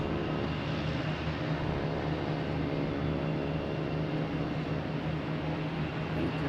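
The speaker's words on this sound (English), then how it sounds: "We have American Airlines coming in from JFK and a JetBlue coming in from" American Airlines and JetBlue airliners arriving at Boston Logan Airport, a steady distant jet engine roar with a broad, even rumble holding throughout, no voices.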